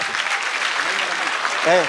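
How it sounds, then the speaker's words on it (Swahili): Applause breaks out from an audience at a Kenyan community gathering for the honourable Ndindi Nyoro, a steady wash of clapping lasting throughout with a brief voice at the end. "Tupigie huyu mheshimiwa makofi."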